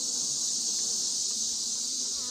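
Honey bees buzz in a steady, dense hum during an inspection of a beehive's honey supers, a continuous high drone of many insects with no pauses or voices.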